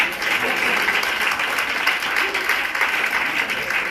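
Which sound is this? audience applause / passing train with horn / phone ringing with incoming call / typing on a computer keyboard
audience applause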